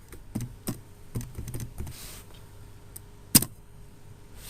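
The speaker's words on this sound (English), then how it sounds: "Now let me try running this file by typing Java and typing the" Typing on a computer keyboard while entering a command to run a Java program: a quick cluster of key clicks, then a pause and a single sharp, louder keystroke near the end, close and otherwise quiet.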